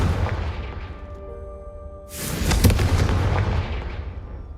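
A Confringo fire spell from the Hogwarts Legacy video game bursts with a loud blast about halfway through, followed by a rumbling, crackling tail over a low hum, with no talk.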